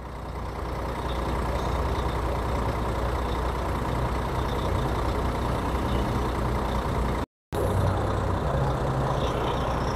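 A Eucatur coach bus pulling out of the bus station at Balneário Camboriú, its heavy diesel engine giving a steady loud rumble that holds for the whole stretch with only a brief cut.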